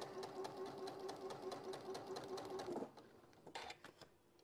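Sewing machine stitching two pieces of fabric together: a close, steady whirring run with fast needle clatter and a faint tonal whine stops abruptly, followed by a few soft clicks and handling noises.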